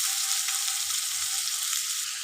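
Bitter gourd fries in hot oil, giving a steady, loud, close hiss of sizzling that holds evenly throughout with no talking.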